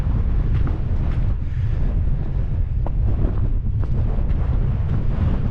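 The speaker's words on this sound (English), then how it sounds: "It's quite a chilly wind now." Chilly wind gusting steadily across an outdoor hillside hike in Calderdale near Stoodley Pike, a constant loud rumble buffeting the microphone with no speech.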